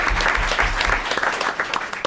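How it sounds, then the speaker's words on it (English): Audience applause fills a student awards and recognition ceremony at a school committee meeting, a steady burst of clapping from a room of people lasting a couple of seconds with no talk over it. "round of applause for Maggie"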